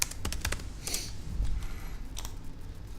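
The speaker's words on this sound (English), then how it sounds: "So I'm going to actually just type it in here." Quick bursts of typing on a computer keyboard, sharp close key clicks in uneven clusters with short pauses between them, no talking.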